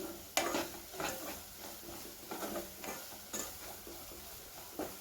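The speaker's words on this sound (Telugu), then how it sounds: "గరం మసాలా వేసుకోవాలండి ఇవి కూడా పచ్చివాసన వెళ్ళే వరకు బాగా ఫ్రై చేసుకోవాలి" Garam masala spices fry and get stirred in a pan for egg fried rice, giving a soft sizzle with intermittent scraping and clinks of a utensil against the pan, fairly quiet and close.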